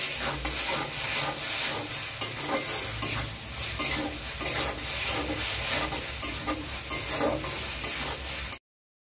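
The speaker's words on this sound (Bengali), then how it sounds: "যতক্ষণ পেঁয়াজ আদা রসুন কাঁচা গন্ধটা না যাচ্ছে ততক্ষণ ভেজে নেব।" Onion, ginger and garlic fry in a pan for a potato curry, giving a steady sizzle with frequent stirring scrapes and clinks throughout.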